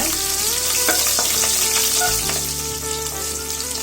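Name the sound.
onions sautéing in a pan with curry leaves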